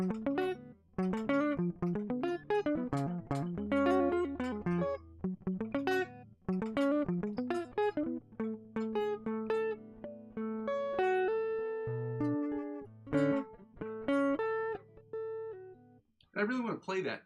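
A long, busy passage of the OD riff on electric guitar at full speed: dense, rapid picked notes with occasional sustained tones, loud and close.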